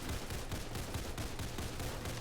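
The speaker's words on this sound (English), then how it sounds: "who's setting off fancy firecrackers outside?" Fancy firecrackers go off outside during the Fourth of July, a dense, continuous crackle of rapid pops that fills the whole stretch at steady loudness, with no one talking.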